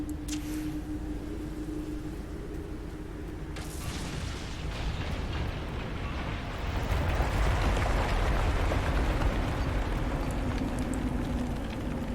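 An explosion rumbles through a fantasy battle in Dragon Age Inquisition, a broad noisy roar of low booming and crackling debris that swells midway and keeps churning, with no talk over it.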